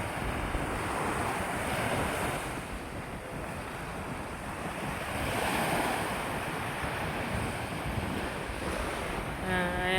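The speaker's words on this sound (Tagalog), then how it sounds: "Ayan, dagat to." Sea waves wash onto a beach in steady broadband surf, mixed with heavy wind rumble on the microphone, continuous and fairly close for the whole stretch.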